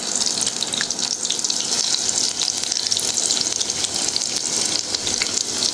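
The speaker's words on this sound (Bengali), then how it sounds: "অবশ্যই তেলটা একদম পারফেক্টলি গরম থাকতে হবে এবং ডুবা ডুবা তেলে ভাজতে হবে" Pumpkin flower fritters deep-frying in plenty of very hot oil, a dense continuous bubbling sizzle, loud and close, holding steady throughout with no voices.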